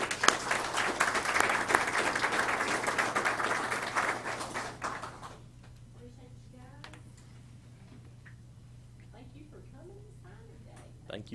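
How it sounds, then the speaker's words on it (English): Audience at a signing day event applauds a group of gentlemen, a loud sustained round of clapping that stops abruptly midway, followed by quiet room noise and faint murmurs. "please join me in giving these gentlemen a round of applause"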